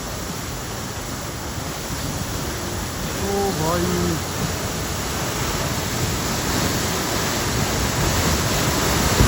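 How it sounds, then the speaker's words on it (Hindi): Heavy waterfall spray pours steadily onto a mountain road on the Beni to Muktinath route in Nepal, a loud continuous roar of falling water throughout, with a man briefly calling out over it. "कैसे पानी गिर रहा है यार"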